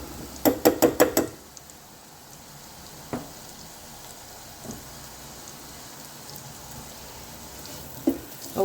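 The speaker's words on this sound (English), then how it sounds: "we're just going to fry the onions off" Onions fry in a pan with a soft, continuous sizzle. A quick run of sharp knocks opens the sound, and a few isolated taps follow later.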